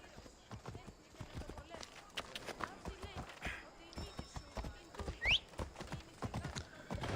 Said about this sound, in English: Watch my horse appear out of nowhere.